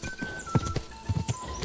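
A horse's hooves clip-clop in uneven bursts in Kingdom Come Deliverance 2, set against a sustained musical tone from the game.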